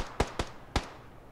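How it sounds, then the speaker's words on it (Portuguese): Three sharp gunshots in PUBG Battlegrounds, irregularly spaced over about a second, moderately loud with short decays and no talking over them. "O tiro tá vindo aqui de trás, ó."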